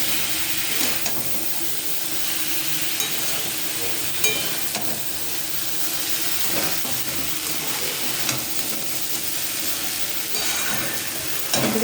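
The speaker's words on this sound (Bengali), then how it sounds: "চাল ডালটাও দিয়ে একটু নেড়ে নেব" Rice and lentils being stirred as they fry in a pan for khichuri with winter vegetables, giving a steady close sizzle and hiss with scraping stir strokes throughout and no talk.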